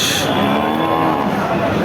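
A Sahiwal cow at a cattle market moos loudly and close by in one long, low, drawn-out call.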